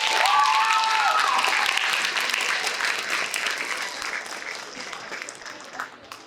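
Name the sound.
audience applause for contest participants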